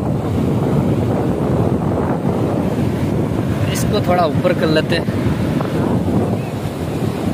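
Night surf rolls onto Paradeep beach in a constant, near wash of ocean waves with wind buffeting the microphone, while people chat and call out over it.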